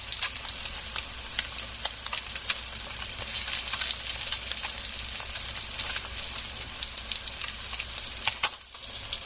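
Blackened fish searing in a hot skillet, a continuous crackling sizzle with sharp pops throughout, close and steady, dipping briefly near the end.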